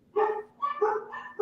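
A dog barks close by in about three quick, sharp barks with short gaps between them, loud against an otherwise quiet indoor background.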